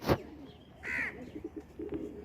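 A golden pigeon, kept with its mate, gives a short call near the start, followed by a brief rising squeal and softer scattered bird sounds over faint background noise.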